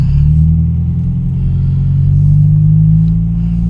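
A 2005 Toyota Vios E automatic with a sporty aftermarket exhaust accelerates, giving a loud, steady low engine drone and exhaust rumble that holds throughout with no talk.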